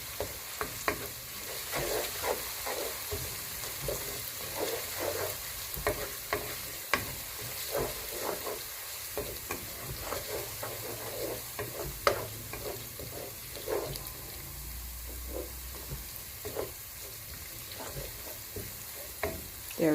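Githeri, a mix of maize and beans, cooks in a pan with garlic and ginger: a soft continuous frying hiss with frequent spatula scrapes and taps against the metal, close and without talk.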